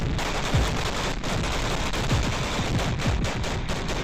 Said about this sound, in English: Look at the rapid fire the Bradley unleashes on the Russian BMP-2.